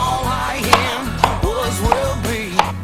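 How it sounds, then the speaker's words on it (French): Knife chopping a sweet potato into small cubes on a cutting board, four or five sharp distinct knocks spaced unevenly, close and clear over a steady low background hum. "on va la couper en cubes relativement petits"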